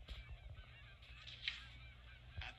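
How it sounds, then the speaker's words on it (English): Seabirds call in a honking, goose-like chorus along an Alaskan coast, faint and distant, with a few louder cries rising over soft background noise. "Above, noisy flocks of seabirds cry."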